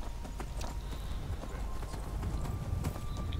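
Horse hooves clip-clop at a steady, brisk pace in the video game Skyrim, close and fairly loud over a low continuous game background.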